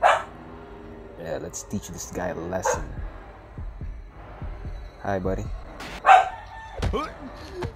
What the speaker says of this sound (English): I really apologize for my dog.